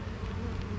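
Honey bees at a hive give a steady, close buzzing hum in a brief burst, with no voices.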